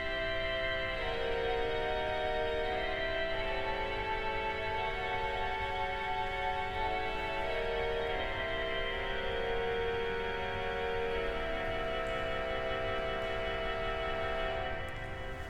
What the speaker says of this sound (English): the stop we absolutely mustn't avoid using in this demonstration is the voix humaine,